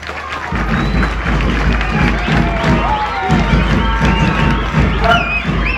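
A large crowd at a children's school gathering cheers and claps loudly for a municipal team, with shouts and whistles over a constant, close roar of applause.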